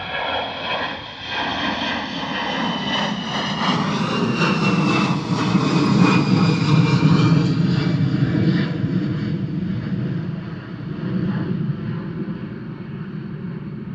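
An airliner takes off in a crosswind at Bristol Airport, its jet engines producing a loud, sustained roar with a rising whine that swells toward the middle and slowly fades, heard alone without talk.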